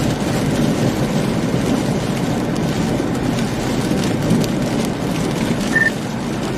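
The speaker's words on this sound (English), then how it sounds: "I'd love to get out of this freaking rain." Heavy rain drums steadily on a car during a storm chase on a highway in severe Easter Sunday weather, a dense continuous roar with no talking.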